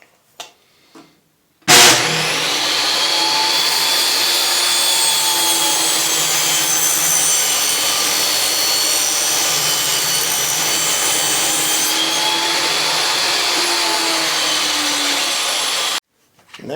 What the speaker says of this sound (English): we'll cut the bevel on the other side of our other board.